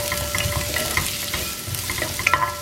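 Garlic and a small piece of ginger sizzling and frying in a pan, with steady crackle and occasional bright pops while being stirred, close and fairly loud with no talking.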